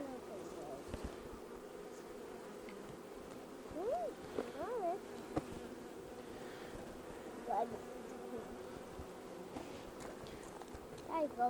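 Bees buzzing in a backyard hive during re-queening, a faint continuous low drone close by with occasional brief rising buzzes, under people talking.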